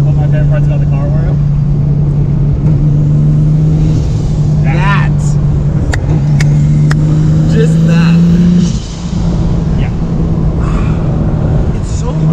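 A 600 hp Subaru WRX with a BMW engine and a single-turbo swap idles and drones loudly through an open exhaust, a steady heavy hum close up while people talk over it.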